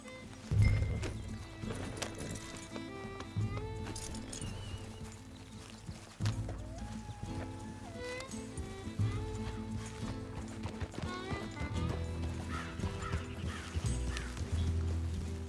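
Horse hooves clip-clopping at a steady ride in Red Dead Redemption 2, with occasional whinnies and neighs over a soft orchestral game score, moderately close and continuous.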